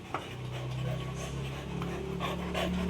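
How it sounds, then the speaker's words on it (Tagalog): A small mixed-breed dog pants heavily and rapidly after a trip to the vet on a hot day, a steady close breathy rasp running throughout under low background hum. "Hingal na hingal, parang aatakihin na ng high blood"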